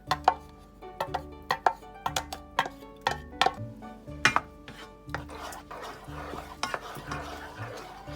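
Blended mango is stirred into a pudding mixture with a spoon, giving a steady run of light clinking, scraping strokes against the bowl, close and moderately loud.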